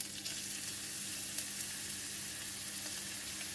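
Ginger strips frying in hot garlic oil in a pan, giving a steady, even sizzle at moderate loudness with a couple of faint clinks and no voices.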